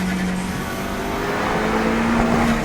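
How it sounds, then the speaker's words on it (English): A turbocharged sports car on a racing circuit, either a Zenos E10 S or a Caterham Seven 360R, holds a steady, loud engine drone that shifts in pitch while it pulls through the gears, with no voices over it. "Feel that engine whizzing and popping."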